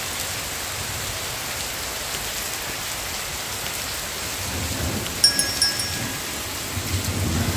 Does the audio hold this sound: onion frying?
no